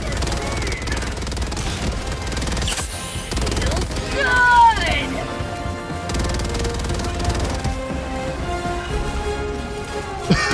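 Sustained gunfire in Helldivers 2: dense, continuous rattling shots under loud game effects and an explosion-like swell midway, with voices talking over the battle throughout.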